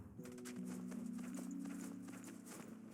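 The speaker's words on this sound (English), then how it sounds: "Use the horse to leap over large gaps." A horse gallops in the side-scrolling action game Death's Gambit, with steady rapid clip-clop hoofbeats over a sustained musical drone, fairly quiet and continuous.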